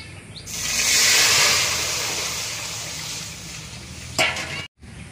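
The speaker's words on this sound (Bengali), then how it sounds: "এবার আমি ডালটা ঢেলে দেবো।" Masoor dal with tender hog plum is poured into a hot pan with dried chilli, giving a loud sustained hiss and sizzle that swells, then tails off with a brief clatter near the end.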